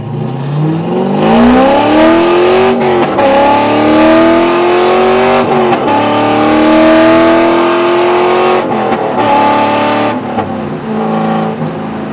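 A C5 Corvette fitted with a cold air intake accelerates hard on a highway, its loud engine note climbing through repeated rising sweeps with brief dips at each gear change, heard close from inside the car.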